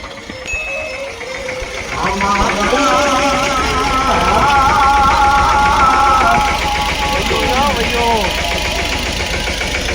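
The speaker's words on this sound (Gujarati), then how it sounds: "ગાડી ના મળી તો કોકનો ટ્રેક્ટર લઈને આવી" A loud, close engine chugs steadily throughout with a knocking, rhythmic rumble, while people talk over it.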